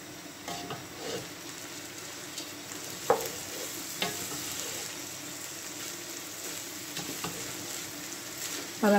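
Rice frying with ginger and onion in a pan for biryani, with a steady sizzle under repeated stirring scrapes and a few sharp utensil knocks against the pan.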